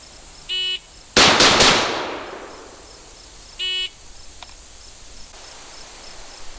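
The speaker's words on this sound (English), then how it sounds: "the .30 carbine is first up this time, firing from the shoulder from this distance of 5 yards." Three rapid shots from a .30 carbine fired from the shoulder at close range burst out together and ring off in a decaying tail, with a short electronic beep before and another after.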